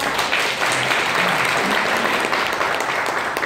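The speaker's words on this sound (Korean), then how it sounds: "박수를 치면요, 제대로 쳐주십시오." An audience at a leadership workshop held at a Korean studies institute in Andong applauds loudly and continuously. Dense, even clapping fills the whole span without a break, and voices are faintly mixed in.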